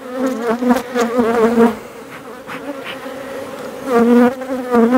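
Honeybees swarm around beehives in a dense, close buzz that swells and eases in waves, with individual bees droning loudly past and no voices over it.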